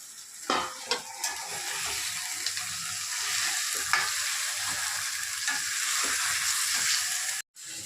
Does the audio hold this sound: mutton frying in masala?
yes